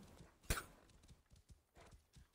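Horse hoofbeats in the Assassin's Creed Origins video game, faint irregular clip-clop thuds with one sharp louder hit near the start, heard alone with no talking.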